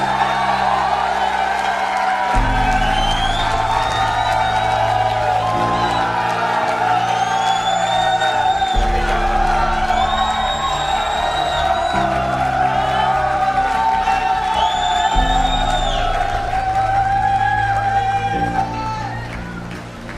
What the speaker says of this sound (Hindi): जोरदार तालियां फॉर मिस्टर संजय कुमार